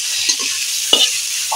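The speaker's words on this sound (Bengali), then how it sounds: "কড়ার তেল হয়ে গেছে, তেজপাতা আমি লঙ্কা আর ফোড়নটা আমি দিয়ে দিলাম। পেঁয়াজ কুচিটা দিয়ে দিলাম।" Chopped onion dropped into hot oil in a kadai with bay leaf and chili, a steady bright sizzle throughout with a soft clack of the spoon near the middle, close and alone.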